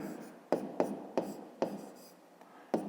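A pen on paper writes out the sides of a pentagon for a fifth-grade math exercise, making several short, close scratchy strokes separated by brief pauses, quiet and with no one talking.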